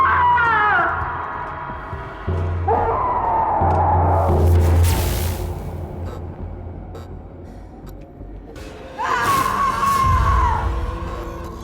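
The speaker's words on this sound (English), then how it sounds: "there's someone screaming in the basement" Wailing, scream-like cries echo through the basement of an abandoned asylum hospital: three long, wavering, loud howls separated by quieter stretches of low rumble, with no talking.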